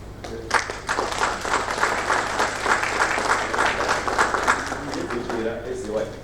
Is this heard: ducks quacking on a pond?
no